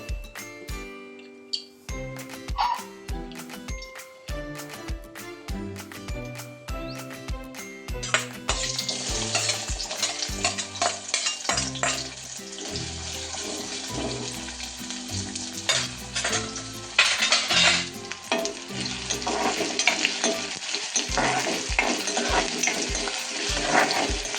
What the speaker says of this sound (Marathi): कांदा तळला थोडा.